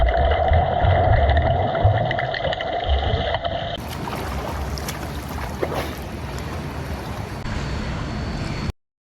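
A person swims laps in a pool, producing loud, continuous watery splashing and rushing noise that shifts partway through and then stops abruptly.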